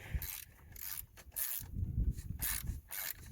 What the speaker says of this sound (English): Then you can get the nut started and tighten it down the rest of the way.